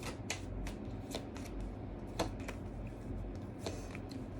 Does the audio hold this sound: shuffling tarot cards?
yes